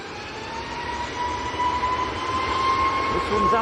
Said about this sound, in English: Next to go is a Ryanair Max, lined up and ready.